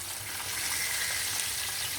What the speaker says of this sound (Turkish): Ben balık aldığım balıkları kızartıyorum.